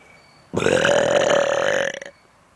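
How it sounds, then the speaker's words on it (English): One loud, long human burp, about a second and a half, voiced and steady before cutting off abruptly, heard alone in an outdoor woodland setting. "you guys are just gonna see a few lost burps"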